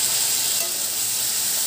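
Spice paste of ginger and masala sizzles loudly in a pan as a little water goes in, a steady close hiss with no pauses and no talking.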